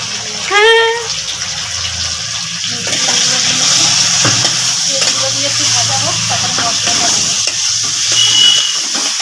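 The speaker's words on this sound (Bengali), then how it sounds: "এই যে আলুটা ভাজছি" Potatoes fry in oil in a pan with a steady bright sizzle and hiss, and a brief voice is heard near the start, followed by a few clinks over the continuous frying.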